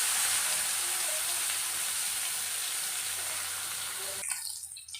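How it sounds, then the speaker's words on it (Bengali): Bitter gourd pieces rubbed with salt and turmeric fry in hot oil for shukto with a steady, loud, close sizzling hiss that cuts off abruptly near the end, leaving faint clatter. "এই তেলের মধ্যে আমি দিয়ে দিচ্ছি করলা"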